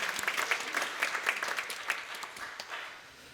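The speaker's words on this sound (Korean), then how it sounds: "큰 박수로 하나님께 영광을 올려드립니다." A church congregation applauds together during a Korean worship service celebrating the church's 79th anniversary, producing steady, dense clapping with sharp overlapping claps that is close and fairly loud, with no talking over it.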